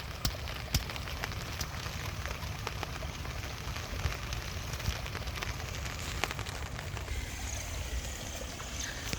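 Rain falls steadily in wet weather during a fishing outing, giving a continuous hiss broken by scattered close drips and taps.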